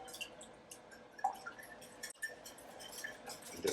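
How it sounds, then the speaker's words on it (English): Seven eggs go into a bowl of moistened matzah farfel, making faint, wet drips, soft plops and squishy sounds scattered unevenly over a quiet background. "I'm going to add in 7 eggs."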